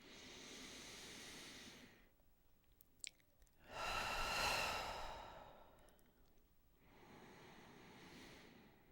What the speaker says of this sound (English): 3 nice deep breaths in, please.